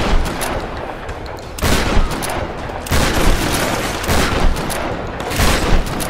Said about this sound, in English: I like how I'm wasting shotgun shells on this guy and he's still not dying.